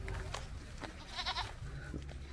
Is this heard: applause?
no